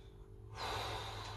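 A forceful exhalation during martial arts self-defence training, a sudden broad rush of breath that begins partway through and stays strong and close to the end, with no talking.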